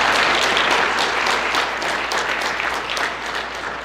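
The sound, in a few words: audience applause for players' parents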